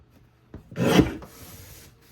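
A paper trimmer blade slides once across a cardstock strip, a single close, raspy scraping stroke lasting under a second, followed by a faint lingering rub and then quiet.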